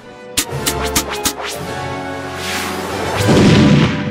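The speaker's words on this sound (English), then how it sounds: "Pump that air gun. Five pumps? Think of the pressure." Animated cartoon air gun, pumped five times, firing a quick run of sharp cracking pops that gives way to a rising, rumbling whoosh with no voices over it.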